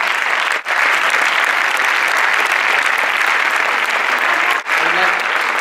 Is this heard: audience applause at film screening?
yes